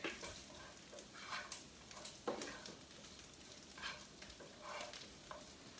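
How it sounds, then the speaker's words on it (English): Pork being stirred in a hot pan with browning flour, a steady sizzle broken by repeated scraping stir strokes, close and alone without talk. "Let me mix my pork."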